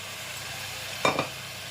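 A quiet, steady sizzle of chopped chow chow and capsicum sautéing in a pan for a kootu, with one brief louder burst of scraping and hissing as the vegetables are stirred, close by with no talking.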